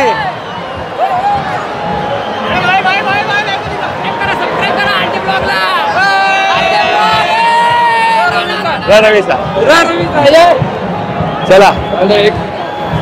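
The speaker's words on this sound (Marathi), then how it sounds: "बाप रे गर्दी" A large, dense crowd gathers at the Chinchpokli Cha Chintamani Ganesh idol arrival procession in Mumbai, with loud continuous chatter, shouts and whoops close around, and someone nearby speaking briefly.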